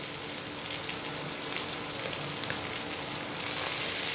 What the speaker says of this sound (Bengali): এবার এটাকে আর 2 মিনিট একটুখানি আমি ভেজে নেব।